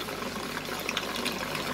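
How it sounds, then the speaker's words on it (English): Dirty pond water flowing through a clear braided hose, a steady close wash of trickling, gushing liquid with faint bubbling, continuous and without talk. "clear braided hose, that dirty water coming out"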